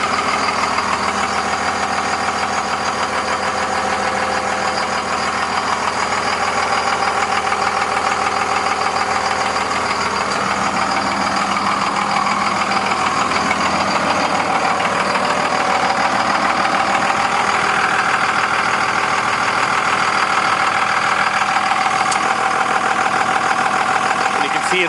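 A 2002 Ram truck with a Cummins diesel engine runs at a steady idle, a continuous close rumble with a slight rise in pitch partway through and a voice talking over it.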